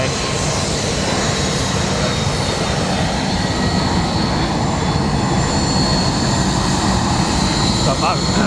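An EasyJet Airbus A319 taxis and passes at London Luton Airport, its jet engines producing a loud, steady roar and whine that stays close and strong throughout, with no speech.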